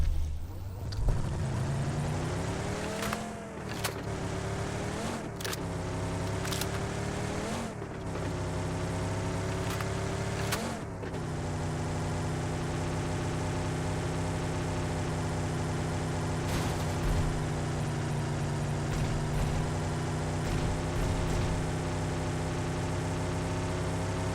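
A car engine driving in the PUBG video game, a steady droning hum with several revving swells early on, then a sustained cruise under players' talk.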